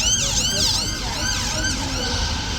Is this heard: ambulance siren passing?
yes